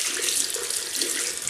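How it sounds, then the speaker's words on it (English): Water runs steadily from a tap for hand rinsing, a close, continuous hiss and splash with no talking. "Rinse hands."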